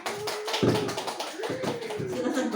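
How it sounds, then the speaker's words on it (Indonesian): Audience of teachers at a school presentation claps hands, a quick run of distinct close claps at moderate volume with a voice briefly heard between them. "Boleh tepuk tangannya?"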